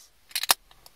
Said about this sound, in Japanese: ビール開けます